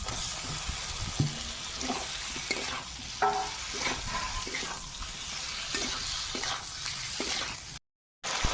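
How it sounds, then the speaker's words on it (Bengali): Fried potatoes stirred into a cooking spice paste for pumpkin chhokka, with a low continuous sizzle and repeated scraping, knocking stirs, close by, briefly cutting out near the end. "মশলা কষা হয়ে গেছে ভেজে রাখা আলু দিয়ে দেবো"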